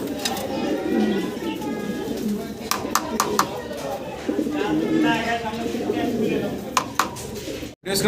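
A pair of fancy pigeons coos in soft, repeated throaty phrases close by, with someone talking over them throughout.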